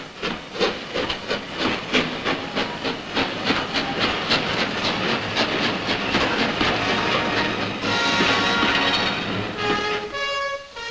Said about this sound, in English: Still steam-hauled by magnificent engines are most of the crack trains of the western region.